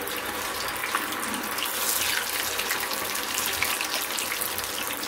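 Chicken pakoda pieces go into hot oil over a medium flame, giving a dense, steady sizzling hiss with crackly bursts, close and continuous with no talking.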